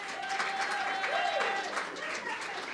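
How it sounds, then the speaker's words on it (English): A church congregation claps for the house band, a steady broadband patter mixed with crowd noise and a faint sustained tone lingering underneath, holding at an even level throughout. "Give them a round of applause."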